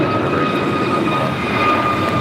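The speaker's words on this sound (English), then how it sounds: "Runway 25 right. Good takeoff." A fixed-wing airliner takes off from runway 25 right at LAX, a steady, fairly loud engine roar with a high turbine whine holding evenly throughout, heard alone with no voices.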